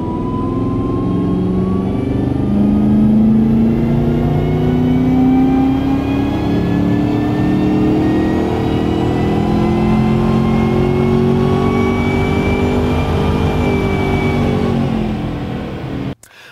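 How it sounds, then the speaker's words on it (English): A car engine on a dynamometer revs in fourth gear during a full pull for fuel tuning, a loud, steady roar climbing smoothly in pitch for about sixteen seconds before cutting off abruptly. "let's get into fourth gear, perform another pull on the dyno"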